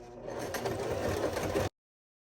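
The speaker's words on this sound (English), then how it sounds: "Back over at the sewing machine, I'm just going to stitch along that outer edge that I pinned together" A Baby Lock Zest sewing machine stitches steadily along the pinned outer edge of a fabric bucket hat, a close continuous mechanical whir that stops abruptly.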